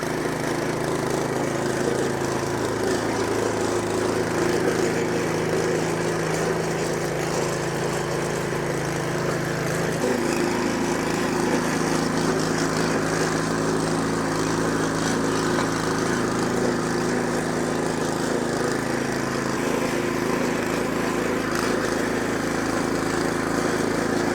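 A large petrol rotary tiller engine runs steadily at close range, a continuous mid-pitched drone that holds throughout with a slight change in tone partway through, with no talk.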